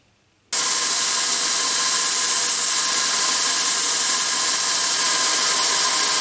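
A bolt being cut off on a scale model shaper, with a power tool starting abruptly after a short silence and then running as a loud, steady, high-pitched hiss and grind, close and without pause.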